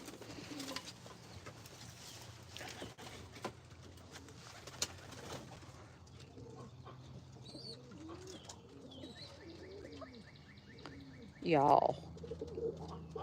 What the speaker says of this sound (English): These pigeons are rock stars, just saying.